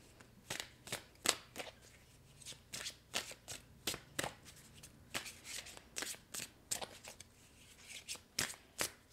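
Tarot cards are drawn and shuffled from a deck in a series of soft, quick riffling and sliding bursts, close and quiet with brief pauses between them, and no voice.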